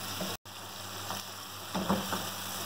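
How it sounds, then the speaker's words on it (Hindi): Beef frying over a high flame in a pot for nihari, a steady close sizzle with a few scrapes of stirring and one brief dropout. "गोश्त को मैंने 3-4 मिनट तक अच्छी तरह से हाई फ्लेम पर भूना है।"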